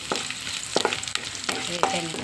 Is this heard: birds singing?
no